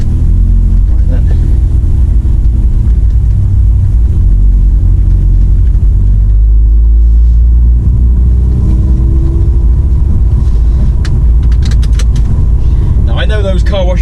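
Automatic car wash working over a VW Golf 4 1.8T estate, heard from inside the car: steady loud low rumble and water wash with brushes churning, a rattling spray burst near the end.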